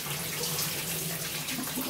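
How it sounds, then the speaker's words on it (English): Clean water rushing steadily through the cooling system hoses of a Jaguar V12 during a flush, a continuous close splashing flow with no talk. "So far it's only clean water coming up."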